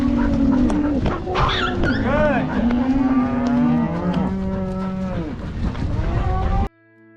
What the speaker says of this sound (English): all these cattle bawling